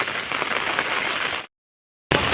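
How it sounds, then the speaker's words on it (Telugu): Heavy rain falling near a school and a wedding hall, a dense, steady hiss that breaks off briefly and then returns. "ఫుల్ వర్షం, అబ్బా"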